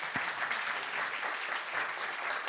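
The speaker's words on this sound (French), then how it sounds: "Je pense que ça mérite des applaudissements, quand même." An audience at a gastronomy art and science conference applauds with a dense, steady clapping that fills the whole moment at even loudness, with no voices over it.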